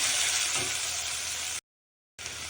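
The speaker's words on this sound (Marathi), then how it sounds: "आता आलं लसूण पेस्ट टाकून घेतो आलं लसूण पेस्ट टाकली आपण" Ginger-garlic paste sizzles loudly and steadily in hot oil as tempering for a raw banana curry; the hiss cuts to a brief dead silence partway through, then resumes just as loud.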